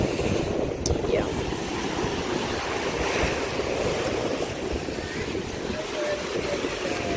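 Ocean surf rolling onto an Andaman Islands beach, a steady broadband wash mixed with wind buffeting the microphone, filling the whole stretch at an even level.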